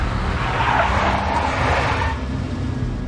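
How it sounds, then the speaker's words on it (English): Big black Mercedes skidding in the Max Payne video game, a loud, sustained tire screech with engine roar that holds steady for a few seconds before easing slightly. "A big black Mercedes."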